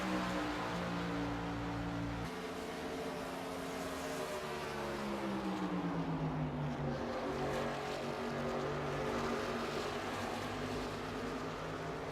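Race truck engines in the iRacing Truck Series sim roar steadily as a pack of trucks battles closely, with layered engine tones shifting pitch as they rise and fall through the corners, loud and continuous throughout.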